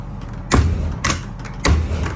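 A trailer door is swung shut but fails to latch, giving three separate heavy thuds with a metallic rattle, roughly half a second apart, each followed by a short ringing decay.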